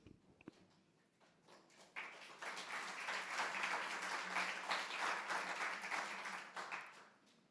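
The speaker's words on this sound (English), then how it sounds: "The applause is probably undue and premature" An audience at a small talk breaks into applause for the speaker, starting with a few scattered claps and swelling into a steady, moderately distant round of clapping that tapers off at the end.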